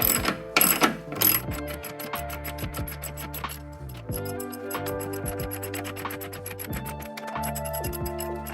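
A 14 mm ratchet wrench torques the top nuts on a KYB Quick Strut during a suspension strut replacement, giving rapid repeated clicking bursts with metallic clinks over a steady hum, close and fairly loud.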